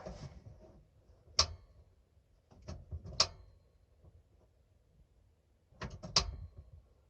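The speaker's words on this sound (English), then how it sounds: "Now let's light the heater." Camping heater's pilot light being lit on a 20-degree night, a few sharp igniter clicks and snaps spaced seconds apart with faint mechanical fumbling between them, close and quiet, no talking.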